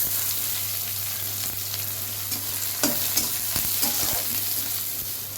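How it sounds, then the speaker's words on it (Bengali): Onions sizzle in oil alongside crushed garlic and cumin seeds, with a steady loud hiss and scattered scraping clicks from a spatula stirring the pan over a constant low hum. "আর দিচ্ছি একটু পেঁয়াজ"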